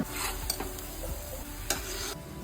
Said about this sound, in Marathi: लालसर रंगावर येईपर्यंत तळायचं मीडियम फ्लेम वर तळायच्या